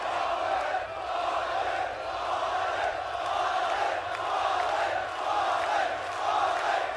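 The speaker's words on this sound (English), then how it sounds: "This is the kind of cheer you expect to hear" A large arena crowd at a Counter-Strike esports semifinal roars and cheers continuously, a dense wash of voices holding at a steady, loud level without pause.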